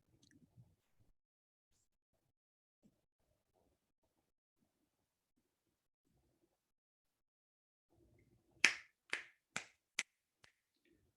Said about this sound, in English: when I actually start snapping my fingers